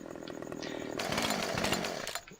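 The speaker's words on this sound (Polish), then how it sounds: "przez przypadek, żebym odpalił piłę" A chainsaw started in the farming video game Farming Simulator 15 buzzes loudly and steadily, then kicks up into a harsher, busier roar before cutting off, heard close with no talk over it.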